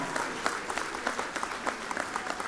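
Warm audience applause at a folk music education finale concert for a young boy taking a bow, a dense, even wash of many clapping hands at moderate volume.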